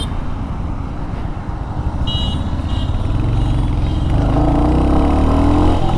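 A Royal Enfield Hunter 350 single-cylinder motorcycle idles and then picks up revs during a slow U-turn, its engine thrum growing louder and steadier near the microphone.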